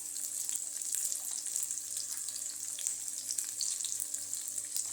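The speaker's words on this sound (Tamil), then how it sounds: "எண்ணெய் நல்லா காஞ்சிருச்சு. நம்ம எடுத்து வச்சிருந்த வெங்காயத்தை போடுவோம்." Onions frying in hot oil for a chicken gravy, with ginger and garlic in the pan, give a steady, dense sizzle and crackle that runs unbroken and fairly close throughout, with no talking.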